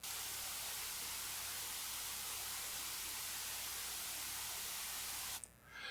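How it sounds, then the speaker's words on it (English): Bright, hissing white noise plays loud and constant, like harsh static, cutting off sharply just before the end. "this is a comparison example of white noise."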